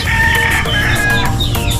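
Texas mestizo chickens in a backyard farm, clucking and crowing steadily close by over a constant low hum, with no talk.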